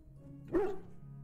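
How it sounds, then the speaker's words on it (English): A Mabari war dog in Dragon Age: Origins gives a single short bark, close and clear against a quiet background. "I think she would ask that because Mabaris are very smart. They don't just bark for"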